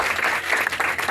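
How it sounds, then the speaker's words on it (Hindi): A congregation at a Christian mission gathering claps enthusiastically, a short, dense burst of applause, loud and close. "कलामा के बादशाह दी जोरदार तालियां बजावांगे"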